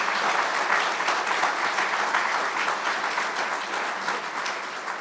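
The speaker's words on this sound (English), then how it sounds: "let's give our governor another round of applause for that" A crowd at a public announcement event applauds the governor, a loud, dense wash of clapping that holds steady for the whole stretch.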